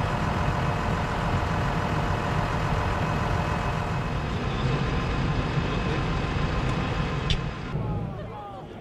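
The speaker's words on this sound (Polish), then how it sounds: "Widzimy ciągnik Massey Ferguson opryskiwaczem Hardy Commander, który rusza na pole pokazowe." A Massey Ferguson tractor pulling a Hardi Commander Twin Force field sprayer at an AgroShow farm fair, its engine running as a steady loud drone that eases off slightly near the end.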